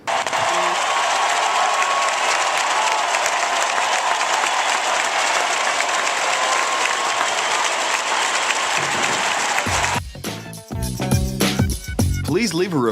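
An NBA arena crowd roars and applauds for Dirk Nowitzki's 20,000th point, a sustained, loud wall of cheering and clapping that breaks off near the end into other sounds.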